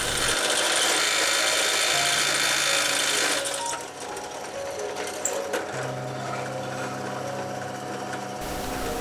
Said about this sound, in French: je fraise les trous pour pouvoir encastrer les vis à tête fraisée de 8 mm